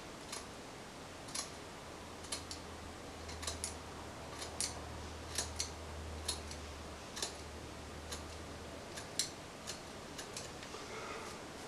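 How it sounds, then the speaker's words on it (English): Scissors snip through beard hair during a home beard trim, each cut a sharp, close click repeating at irregular intervals of about a second over a quiet room hiss, with no talking. "I'm going to go in and take another cut from the bottom"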